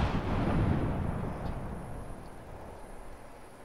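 A frag grenade detonates in a video game firefight with a loud, close boom that rolls off into a fading rumble over a few seconds.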